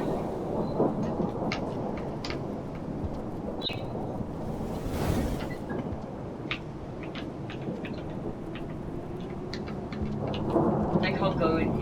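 Heavy rain falls steadily in the video game Rain World while thunder rumbles and cracks, with a sharp loud burst midway and constant rainfall underneath throughout.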